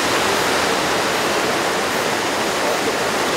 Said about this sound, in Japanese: 滝ですから。